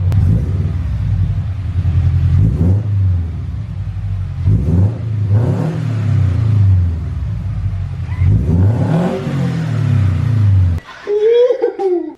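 Toyota 86 fitted with UEL headers and an Invidia N1 catback, revving repeatedly in loud, deep rumbling bursts that rise and fall, close by, ending with a brief crackle.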